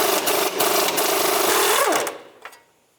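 A 20mm socket on a wrench works the castle nut off a 2005-2009 Subaru Outback knuckle, a steady buzzing ratchet-like whir for about two seconds that cuts off, followed by a faint knock.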